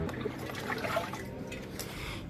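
Water rinsing a cleaning product off an engine, a faint, soft trickle and splash that carries on steadily for a couple of seconds with no speech.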